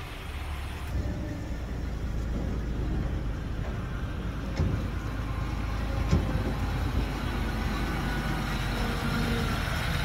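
A truck pulling a car trailer reverses into a side street, its engine a steady, low rumble with a few faint clicks and knocks, heard alone and moderately near.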